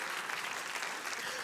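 An audience at an evening awards event claps steadily, a dense, even wash of applause with no break.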